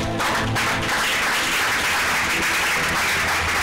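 A church congregation applauds loudly and steadily throughout, dense continuous clapping filling the room with no break.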